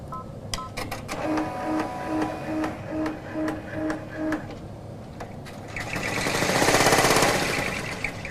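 A Brother PR1000 ten-needle embroidery machine stitches letters into fabric, a fast close mechanical rhythm of needle strokes with regular beeping tones, then a louder whirring swell near the end.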